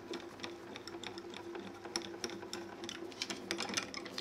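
A die-cutting machine presses embossing detail into the back of cardstock, giving a steady mechanical whir with a rapid run of small clicks and taps throughout, close and moderately quiet, with no voices.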